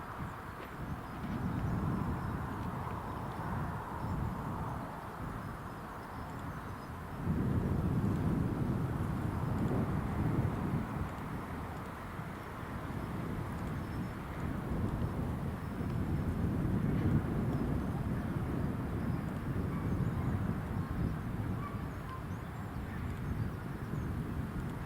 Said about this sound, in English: that's EasyJet on the ILS approach